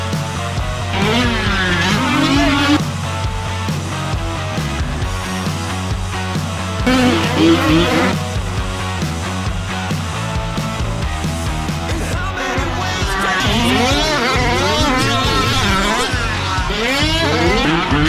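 A Losi 5iveT 2.0 gas-powered RC car engine runs loud and high-revving throughout, rising and falling in pitch as it accelerates, with short gaps and faint voices in the background.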